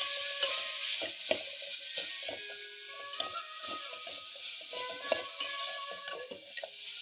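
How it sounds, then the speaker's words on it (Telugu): Grated coconut frying in ghee, a soft continuous sizzle with frequent sharp clicks and taps from stirring against the pan, close up with no talking. "ఈ కొబ్బరిలో పాటు ఇది కూడా కొంచెం ఫ్రై చేసుకుందాం. నెయ్యిలో ఫ్రై చేసుకోవాలి."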